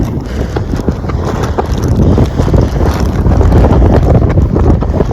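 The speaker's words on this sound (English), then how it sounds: "It's a little bit windy out here." Steady, loud cold wind buffeting the microphone outdoors while ice fishing, a continuous rumbling roar with gusty swells and no voices.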